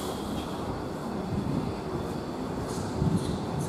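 A regional train arrives at a station platform in Italy, heard as a steady low rumble of rolling wagons, with a brief rise in loudness near the end.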